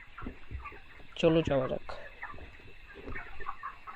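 Chickens on a small poultry farm cluck in a short, loud burst of stacked calls near the middle, with a voice speaking briefly alongside and low farm background noise throughout.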